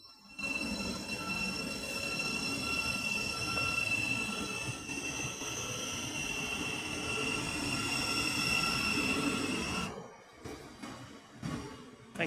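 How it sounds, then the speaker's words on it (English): A Thameslink Class 700 electric train moves into a siding, a sustained loud rumble with high wheel squeal and motor whine that cuts off abruptly, followed by a few scattered clunks. "letting me film the train going to the siding"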